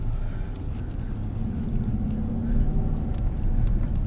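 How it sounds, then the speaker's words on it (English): A Ram 1500 pickup's 5.7-liter Hemi V8 rumbling low and steady while driving, heard from inside the cab with a voice talking over it. "And it just feels right to have the Hemi V8 under your right foot. It just sounds good."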